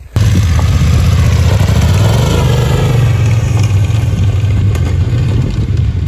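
BMW F 900 GS motorcycles pull away in a loud, close, steady engine drone that starts abruptly and holds a constant throaty rumble, with slight shifts in pitch as the bikes move off.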